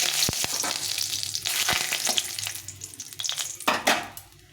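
Two bay leaves fry in hot oil with a dry red chilli, a crackling sizzle punctuated by sharp spatters and spoon clinks against the pan, close up, fading near the end.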